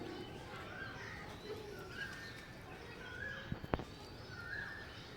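Oman bloodline Teddy pigeons coo softly and repeatedly through a steady background hum, with a couple of brief clicks partway through.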